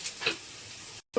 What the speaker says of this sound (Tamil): இப்போ வெட்டி வச்ச வெங்காயம் போட்டுக்கலாம். ரெண்டு 3 வத்தல் போட்டுக்கலாம்.